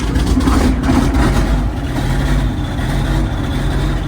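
Diesel farm tractor engine running at planting time, a loud, steady, close low rumble with a throaty idle that holds constant throughout, no voices.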